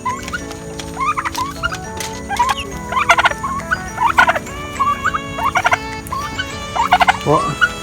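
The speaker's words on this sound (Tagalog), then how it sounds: "At ito po ang aming pabo." A turkey gobbles repeatedly, loud and close, with rapid warbling bursts every second or so and a few higher squawks near the end.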